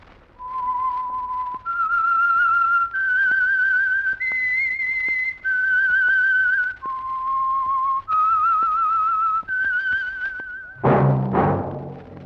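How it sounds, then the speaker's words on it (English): A lone melodic whistle carries the theme tune of The Whistler radio show: a clear, close phrase of sustained notes rising and falling, ending in a brief burst of orchestral sound. "That whistle is your signal for the Signal Oil Program, The Whistler."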